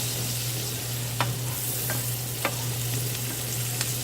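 Food frying in a pan while being stirred, a steady close sizzle with a low hum underneath and a few sharp scrapes of the utensil against the pan.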